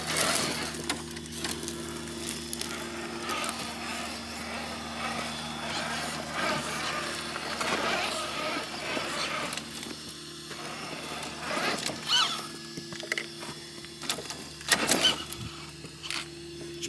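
An Axial SCX6 RC crawler Jeep grinds slowly over rocks, its small electric motor whining steadily with gear hum, interrupted by scattered clicks and scrapes of tires and chassis against stone, close and alone.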